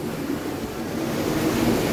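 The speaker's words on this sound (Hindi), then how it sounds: "ये देखिए अंदर झरना बह रहा है।" A waterfall inside Robber's Cave at Guchhu Pani, Dehradun, pours as a constant, dense roaring rush of water that fills the space evenly, with no voices over it.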